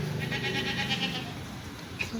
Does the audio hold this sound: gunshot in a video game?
no